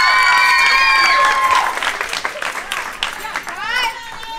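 A crowd at a gymnastics medal ceremony cheers and claps, with high excited voices whooping over a bed of applause at close range.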